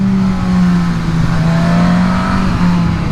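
A Suzuki Katana motorcycle with a 1000 cc engine runs loud and close, a steady throaty drone with slight swells in revs and no talk.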